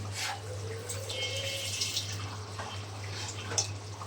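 Water runs into a cooking pot holding about a cup of rice, a quiet, steady trickle and splash heard up close with a low hum underneath.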